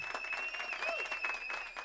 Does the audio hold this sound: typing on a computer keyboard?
no